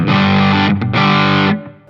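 An electric guitar driven through the distortion side of a Fulltone GT-500 pedal, with highs and mids near one o'clock and bass lowered, rings out in two loud, thick, saturated chords, separated by a brief choke, then fading.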